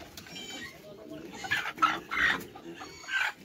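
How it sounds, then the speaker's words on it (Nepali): Local village chickens, including a rooster, cluck in a few short bursts close by while people talk quietly in the background. "कुखुरा पक्रियो है"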